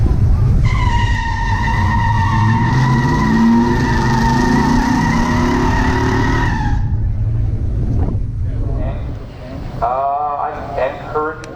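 A 1967 Pontiac GTO and a 1972 Chevelle SS 454 drag race in a pure stock event, their engines making a loud sustained roar for about seven seconds before cutting off, followed by fainter background sounds and a brief voice.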